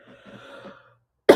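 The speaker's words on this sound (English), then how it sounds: "I really have a coughing attack coming up" A single loud cough bursts out alone after a stretch of quiet, close to the microphone, preceded by faint murmuring.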